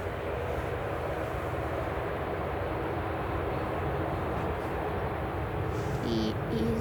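An easyJet Airbus A320 taxis at Manchester Airport in the early morning, a steady broadband engine rumble and whine holding at an even level throughout, with faint background voices.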